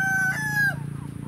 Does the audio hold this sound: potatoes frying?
no